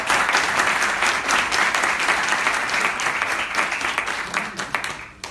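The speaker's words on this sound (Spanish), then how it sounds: "Un aplauso, por favor, para ella." Sustained audience applause for Miss Grand Peru at a live pageant event in Peru, loud and steady clapping that thins out toward the end.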